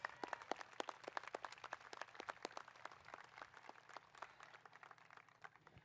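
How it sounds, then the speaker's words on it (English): A crowd at a graduation ceremony applauds steadily, many hands clapping in a dense, even patter that holds for several seconds without voices. "can we just give a round of applause, please?"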